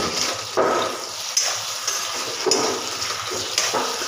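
Fried potatoes are stirred in a pan for a sabudana khichdi, giving a steady broadband sizzle with periodic scraping sweeps roughly every second.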